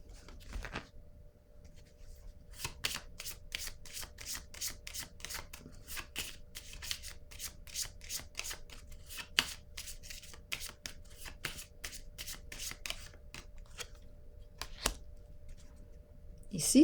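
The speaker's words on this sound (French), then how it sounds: "Je vais piger une autre carte." Tarot cards shuffled by hand in a rapid run of crisp riffling flicks, steady and close, carrying on for many seconds in a quiet room with no talking over them.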